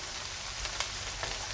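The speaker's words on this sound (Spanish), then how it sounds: "En otra sartén tengo aquí al lado dándole un golpe de fritura otra vez a las patatas para terminarlas." Potatoes being refried in a frying pan for huevos rotos with ham and truffle, giving a steady, close sizzle of hot oil with faint crackles throughout.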